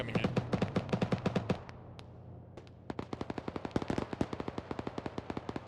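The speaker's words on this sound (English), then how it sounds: "that 50 cal is really dangerous." A .50 cal machine gun fires in the video game Arma 3, loud rapid bursts of heavy shots that pause briefly and then resume in a long rattling string.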